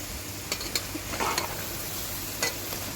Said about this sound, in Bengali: আমি সোয়াবিন তেলে রান্না করছি আমি আবারও নেড়ে দেবো ভালো করে